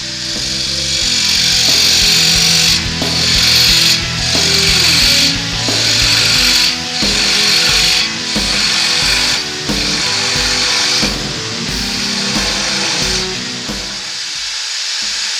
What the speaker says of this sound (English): get the diamond tip parting tool and go in and make the cut